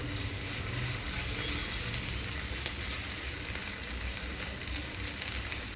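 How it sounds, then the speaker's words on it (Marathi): Garlic, green chili and ginger frying in oil on a stovetop, a steady loud sizzle that holds evenly throughout with no voices. "लसूण, हिरवी मिरची आणि अद्रक आपण हे चांगलं तेलात मिक्स करून घेऊया"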